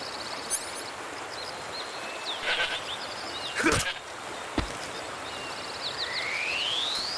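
A goat bleating in the video game Metal Gear Solid 3, with a few short bleats over a steady jungle ambience, along with sharp hits and a rising whistling tone.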